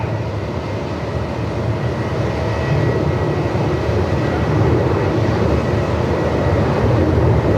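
A Velocity airliner departs Melbourne Airport on a very windy day, its engine roar a loud, continuous broadband rumble that swells slightly partway through, heard alone without speech.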